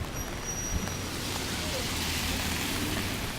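Steady rain falling outdoors in New York, a dense even hiss that stays constant throughout, with faint low traffic rumble beneath.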